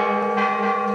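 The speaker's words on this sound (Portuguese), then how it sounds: "Os sinos se dobram para comemorar os 316 anos de Mariana." Church bells toll in Mariana, Minas Gerais, for the town's anniversary, a loud, ringing bell tone with sustained humming overtones filling the short moment.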